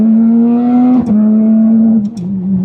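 Porsche GT3 RS engine pulling steadily at light, quarter throttle, a close, smooth, even hum with two brief dips between gears.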